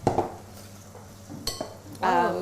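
A chickpea fishcake mixture is stirred in a bowl, making soft scraping and clinking of the utensil against the bowl under a steady kitchen hum, with brief voices near the end.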